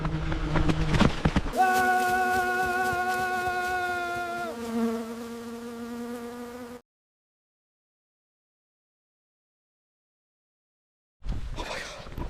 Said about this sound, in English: Wasp attack.